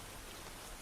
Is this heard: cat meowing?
no